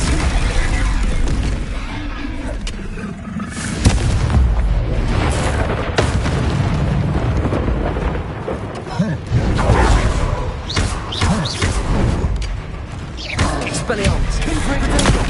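Spell explosions in the Hogwarts Legacy combat, with a dense, loud and continuous barrage of booms, bursts and crackles rolling together and a voice speaking over the din.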